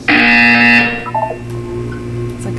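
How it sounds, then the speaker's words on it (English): A loud electronic buzzer from a Portal 2 test chamber sounds for nearly a second, a bright harmonic tone, then fades into a soft, low ambient hum with a few faint chimes. "You will hear a buzzer."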